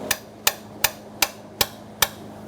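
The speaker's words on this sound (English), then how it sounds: "Using a sledgehammer to tap it loose." A sledgehammer taps a high-pressure fuel pump loose on a 2014-2019 Kia Soul 1.6L four-cylinder, six sharp metallic strikes at a steady rhythm, close and loud with no talking.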